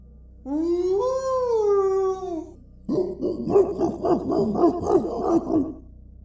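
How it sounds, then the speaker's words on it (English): A long, wavering dog howl, then a rapid burst of loud, sharp barking from more than one dog, close by with no talk. "A howl, followed by barking. Dogs, loud, sharp, furious."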